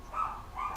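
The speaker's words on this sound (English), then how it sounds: "You know why Ted's barking?" A dog indoors gives two short, fairly quiet barks, alone without talk.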